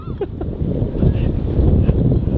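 Wind blowing at sea across a fishing boat off Seonyudo, with a steady low rushing roar and buffeting on the microphone throughout, a few brief higher tones faintly over it.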